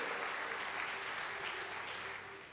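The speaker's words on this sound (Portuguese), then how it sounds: "Vamos dar um aplauso a Jesus por isso aí" Applause from a church congregation after a call to applaud Jesus during a sermon, a steady wash of clapping over about two and a half seconds that fades slightly at the end.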